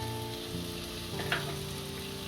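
Turmeric, coriander-cumin powder and chilli go into a pan of frying spinach and tomato in oil, giving a steady, close sizzle with a faint low hum underneath and one brief soft knock partway through.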